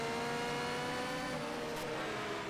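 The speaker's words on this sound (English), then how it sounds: "You can hear that throaty sound of the BRM 12-cylinder engine." A BRM 12-cylinder racing car engine at the 1971 Race of Champions drones with a steady, throaty roar that stays loud and unbroken throughout.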